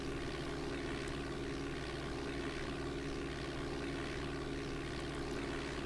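Steady propeller aircraft engine drone from Flight Simulator 4, held at a constant loud level throughout while climbing, with a flat continuous hum and no voices.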